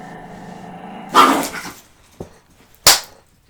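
A dog gives two or three sharp, loud barks close by, separated by short pauses, with quiet room noise between them.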